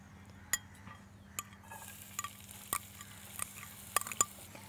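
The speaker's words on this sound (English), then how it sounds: "so I'm going to add my onions." Onions go into warm sunflower oil in a pan and start a soft, faint sizzle, with scattered light clinks and scrapes of a utensil against the pan over a low background hum.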